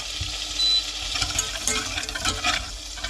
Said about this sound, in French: Et là, on remue tout doucement.